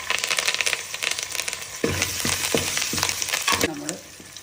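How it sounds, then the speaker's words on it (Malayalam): Mustard seeds, cumin and green chili frying in hot oil while being stirred, a close crackling sizzle with scraping utensil strokes and a few louder spits and pops. "ആദ്യമേ കടുകിട്ട് അത് കഴിയുമ്പോൾ നമ്മളൊരിത്തിരി നല്ല ജീരകം ഇട്ട് അത് പച്ചമുളക് നമ്മൾ അത് ഇളക്കി കൊടുക്കണം"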